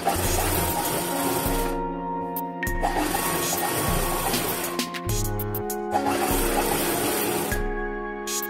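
A sewing machine stitches folded cotton cloth for a child's summer frock in a close, steady whir, running in several bursts with short pauses between them and no talking.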